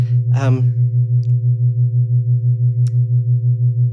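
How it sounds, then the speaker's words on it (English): A pulsing low synth drone from the Line Hum iPad app throbs steadily while a short burst of speech cuts in near the start, followed by a faint sharp button click later. "if you use these buttons, then you're getting these kind of clicky sounds."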